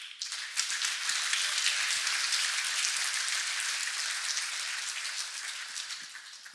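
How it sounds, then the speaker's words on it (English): Audience applause at a Devopsdays conference in Eindhoven, a steady wash of many hands clapping, moderately distant and sustained, slowly tapering toward the end. "Give him a warm applause."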